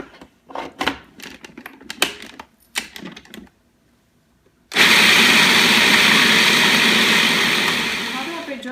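After a few clicks and knocks and a short silence, a kitchen blender starts grinding soaked black-eyed peas for bhajiya batter, a loud steady whirring roar that holds and slightly fades near the end.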